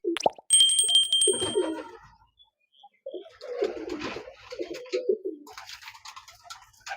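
Pakistani high-flying teddy pigeons sound off close by, with a bright bell-like ring near the start followed by bursts of low cooing and fluttering, then softer scattered calls and rustling.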